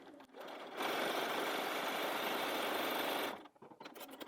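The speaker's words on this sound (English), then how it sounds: "I'm going to take that to the machine and sew 1/4 of an inch along that seam." Sewing machine running steadily for about two and a half seconds as it stitches a quarter-inch seam along pinned mini charm fabric squares, close and fairly loud, with softer handling rustles before and after.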